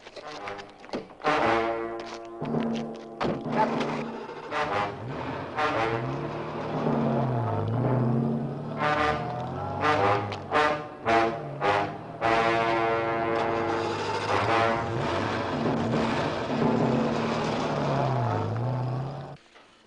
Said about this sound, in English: That's the car, all right.